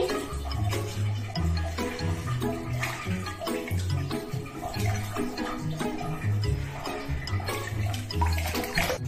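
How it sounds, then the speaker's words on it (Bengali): Small aquarium stones for a mini jar aquarium are washed in water, giving continuous close splashing and rinsing with a churning, rhythmic texture throughout. "আমি পাথরগুলিকে ধুয়ে নিচ্ছি"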